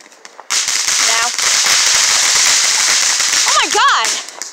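Fourth of July firecrackers and fireworks burst in a dense, loud crackling barrage, close by and continuous for several seconds, with whistling rockets rising near the end.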